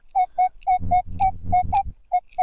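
Minelab Equinox 900 metal detector in a planted field giving a repeated steady tone signal, about ten evenly spaced beeps at close range, with low thumping underneath in the middle.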